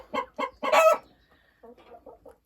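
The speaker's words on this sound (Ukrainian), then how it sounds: "Отакі от наші курочки. І марани, і барбазєшки" Marans and Barbezieux hens clucking nearby, a few loud clucks and a squawk followed by softer, quicker clucking, with no talking.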